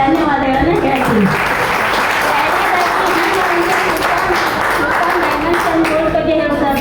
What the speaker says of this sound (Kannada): ಇವತ್ತು ವಿಶೇಷವಾದಂಥ ಚಪ್ಪಾಳೆ ಮೂಲಕ ಅವರಿಗೆ ಧನ್ಯವಾದಗಳನ್ನು ಹೇಳ್ತೀನಿ